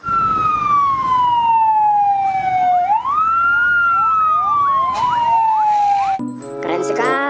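A loud, close electronic siren wails up and down continuously, the tinny tone of a toy fire truck, cutting off near the end.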